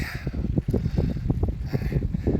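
Strong wind buffets a camera microphone beside a lake on a fishing trip, producing loud, gusty low rumbling in uneven bursts with no voices.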